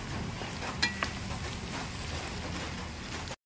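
Shrimp sautéing in a pan before coconut milk goes in, a soft steady sizzle with a couple of faint clinks of stirring, close and fairly quiet.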